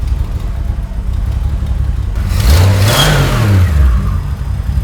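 A turbocharged six-cylinder engine idles close by, then revs up sharply as the gas is pumped, climbing and falling back in a single loud surge.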